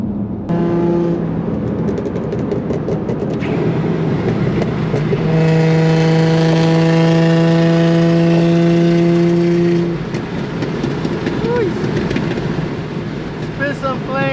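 A Jeep Trackhawk and another car roar under hard acceleration during a top speed pull, engine drone climbing in pitch and peaking loudly before easing off, with people talking over it inside the cabin.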